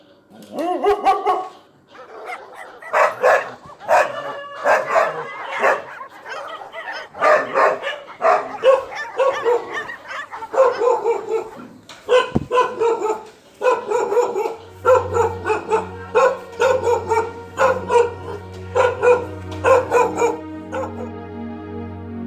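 Several street dogs bark, yip and whimper close by in rapid, overlapping bursts, with brief spoken voices mixed in and background music coming in near the end.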